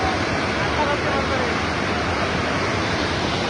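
Water pours down from above in a continuous dense rush, loud and close, with no break or change across the whole stretch.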